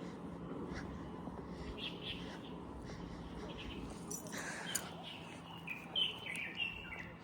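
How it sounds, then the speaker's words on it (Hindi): Birds chirp and tweet on a Shanghai street, scattered high calls rising over a steady bed of traffic and street noise, fairly faint, with some background voices. "गाइस ये चिड़ियों की आवाज़ देख रहे हो, कितनी सुंदर आवाज़ आ रही है"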